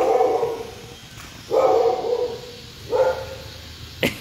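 A dog barks in three separate bursts spaced about a second and a half apart, moderately close and loud, outdoors where lottery tickets are being sold on the street, with faint background noise between the barks.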